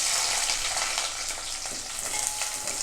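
Chopped onions sizzle steadily in hot oil in a pan for a Chicken Manchurian, a dense continuous crackle with occasional stirring scrapes, close and without talk.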